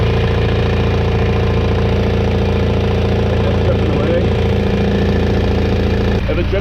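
A loud, steady boat engine idles at sea with a constant low rumble and drone, close by and unbroken, briefly shifting near the end; the engine has a fuel leak.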